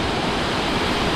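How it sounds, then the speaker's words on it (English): Broadband, steady roar of a waterfall amid icy surroundings, with strong wind gusting against the microphone, loud and continuous with no voices. "There's so much wind blowing on me off the waterfall."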